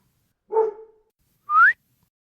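Two short whistled notes sound alone against silence, a lower tone followed by a higher rising one, close and clear.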